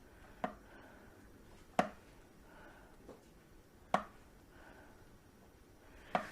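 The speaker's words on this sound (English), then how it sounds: "I'm going to use my spatula here to try to get any of the extra potato off for us" A spatula knocking leftover pre-boiled potato off a kitchen utensil while making gnocchi: five sharp, quiet taps spaced irregularly about a second apart, with near silence between them.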